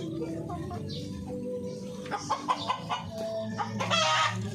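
Chocolate Orpington chickens being fed kangkong and rice bran cluck nearby in a busy mix of short calls, with a brief crow-like call near the end.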